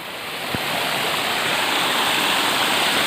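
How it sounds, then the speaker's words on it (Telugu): Dense, constant roar of falling water close by, a waterfall's steady hiss with a single soft knock near the start. "ఇది జలపాతం"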